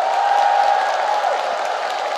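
Sustained applause from an audience at a singing class show, steady and dense throughout, with a faint tonal whistle riding over it early on.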